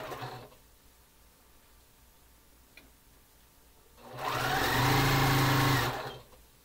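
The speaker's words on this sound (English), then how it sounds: "I'm going to start to sew the rows together." A sewing machine stitches quilt rows together in one steady, whirring burst of about two seconds, rising and stopping cleanly after a quiet stretch with faint background hum.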